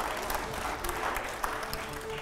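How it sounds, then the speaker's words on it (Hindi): A studio audience at a political discussion show claps steadily, a moderate, even patter of applause throughout the brief moment. "जोरदार तालियां हो जाए"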